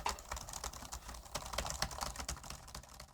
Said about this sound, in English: typing on it actually works really great.